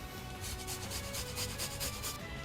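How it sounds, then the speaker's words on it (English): Garlic is rubbed against a grater in quick, even rasping strokes, close and steady for a couple of seconds with no talking. "So now that the garlic has been grated"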